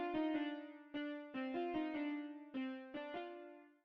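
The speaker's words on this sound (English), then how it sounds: "Then I added this E-piano from FL Studio stock plugin. It's called Citrus, and the MIDI will sound like this." FL Studio's stock Citrus electric piano plays a dark, sparse melody of bright, bell-like chords, each note struck cleanly and decaying between hits, heard alone without drums or voice.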